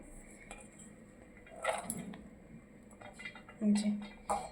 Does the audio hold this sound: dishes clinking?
yes